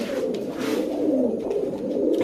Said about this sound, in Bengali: এ হচ্ছে চুইনা মাদি কবুতর